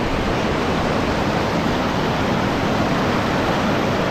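Bagsit River in Palauig, Zambales, rushing water as a loud, dense, unbroken roar close by, steady for the whole stretch with no voices.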